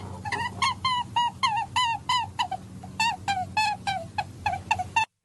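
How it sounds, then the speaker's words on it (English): A scared rabbit gives repeated shrill, honking squeals in short bursts, about a dozen calls in quick uneven succession, loud and close with a low hum underneath. "That is actually a rabbit sound, and it's a scared rabbit."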